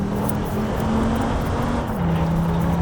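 Audi car drifting in the BeamNG.drive video game, a steady engine drone with a held tone that drops in pitch partway through, continuous and fairly loud with no talk.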